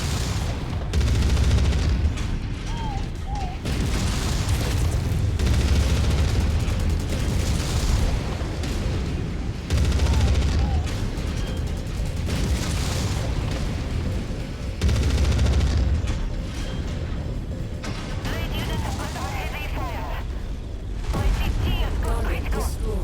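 Laser weapons firing from a mech in modded Mechwarrior 5, dense repeated booming blasts throughout amid rumbling battle noise, with voices talking over it.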